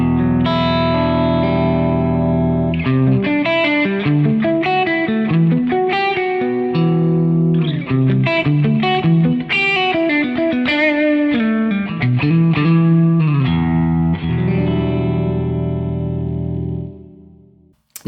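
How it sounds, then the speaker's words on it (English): Electric guitar played through the Amplitube 5 amp simulator with a hall reverb placed after the amp, with distorted sustained chords and quick melodic runs, loud and close, trailing into a wide reverberant wash that fades out at the end. "let's load in that whole reverb, and I'm going to drag that after the amp"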